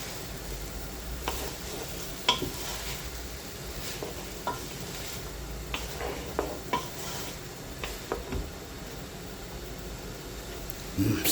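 Tomato puree is stirred into a hot pan for potato dumplings, giving a continuous sizzle broken by scraping and tapping of a utensil against the pan.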